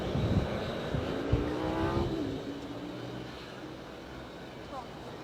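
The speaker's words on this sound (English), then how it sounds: "There's another beautiful landing here at Bristol" An airliner landing at Bristol Airport rumbles in the distance, its engine roar swelling and then fading into a steady low whine, with people talking quietly over it.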